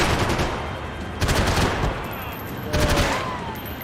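Gunfire in the video game Max Payne 3 comes as rapid bursts of automatic shots, loud and close, with two heavy volleys separated by brief lulls and a continuous rattling backdrop.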